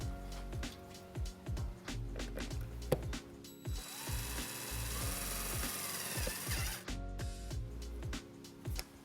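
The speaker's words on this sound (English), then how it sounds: "Now we're going to attach our white wire to the ground with our provided self-tapping screw." A self-tapping screw is driven by power tool into a 2009 Hyundai Tucson body to attach a trailer wiring ground wire, giving close, repeated short mechanical whirring bursts with clicks, alone without talk.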